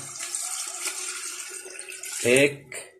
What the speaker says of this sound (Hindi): अब इससे हम नाप के कम से कम 4 या 5 लीटर पानी डालेंगे